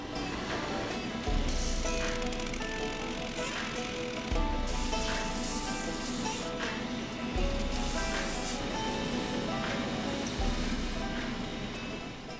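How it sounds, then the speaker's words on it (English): Sandpaper scrubbing over a Red Wing Iron Ranger leather boot, a steady close rasping that surges in repeated strokes at roughly three-second intervals. "So now I'm gonna freshen this up with some sandpaper and then make my marks."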